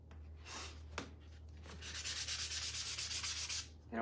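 Worn 80 grit sandpaper rubs back and forth in quick, even strokes while making bunny ear wreaths. The hand sanding is close and gritty, quieter at first and then becoming a steady rhythmic scrubbing, with no voices.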